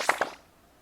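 A short double hit from the rhythm game Rhythm Tengoku marks the switch cue, two quick bright clicks a fraction of a second apart that fade fast into a faint noisy tail.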